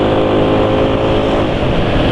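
A motor engine runs at wide-open throttle, a loud, dense, sustained roar held close and steady for the whole stretch, with no voices over it.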